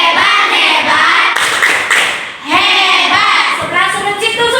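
A group of people at a church activity claps together in a rhythmic 'tepuk hebat' cheer clap, loud and close, with a short pause midway before the applause resumes.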